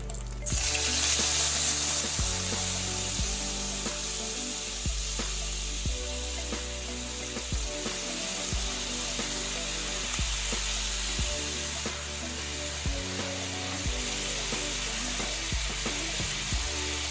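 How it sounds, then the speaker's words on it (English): Chicken stock poured into a hot skillet after cooking chicken hisses and sizzles steadily, with a loud splash at the start, rhythmic scraping of the pan bottom, and no talking. "I'm just going to scrape the bottom of the pan as I pour this chicken stock in."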